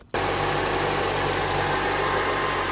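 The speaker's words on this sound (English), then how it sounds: "start the car, and then give it a little gas to see if we hear anything" A car engine starts abruptly after a crankshaft pulley repair and runs at a steady, smooth idle close by, with an even hum and no talk.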